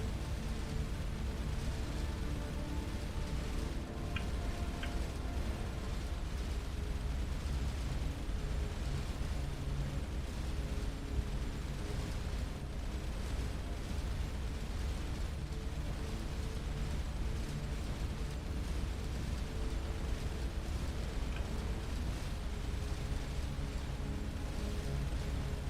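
Continuous heavy rumbling barrage of explosions as a ship shells defense turrets in the space game Starcom: Unknown Space, a dense, steady roar with scattered pops throughout, no talking.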